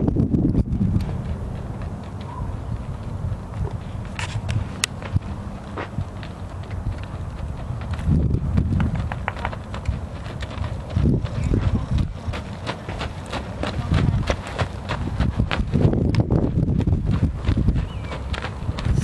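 A registered eight-year-old Quarter Pony trots on a circle, its hoofbeats a soft, steady clip-clop under wind and faint voices.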